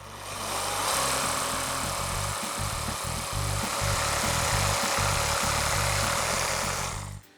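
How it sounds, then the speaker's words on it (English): A power jigsaw cuts notches in wood for a planting bench, giving a steady loud buzzing drone with rapid pulsing chatter that runs throughout, then stops abruptly. "then cut out the notches using a jigsaw"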